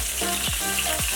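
Garlic and ginger sauté in a hot pan with a steady bright sizzle, broken by two scraping stirs of a spatula.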